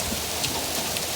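Big hailstones pelt down steadily during a historic winter storm in Los Angeles, a dense, even roar of impacts with sharper cracks scattered through, loud and close with no voices.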